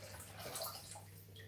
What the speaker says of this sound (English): Fill that bucket up full of water.